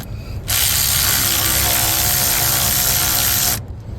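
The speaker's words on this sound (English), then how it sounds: "got my electric ratchet, 10 millimeter here. Go ahead and take negative off." A 10 mm electric ratchet loosening the negative battery terminal on a 2012 Toyota RAV4, one close, loud, steady buzzing run of about three seconds.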